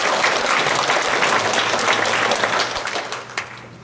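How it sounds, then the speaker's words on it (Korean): A church congregation applauding during a Sunday service, dense sustained clapping from many hands filling the room before tapering off near the end. "주님께 영광의 박수함을 올려드립시다"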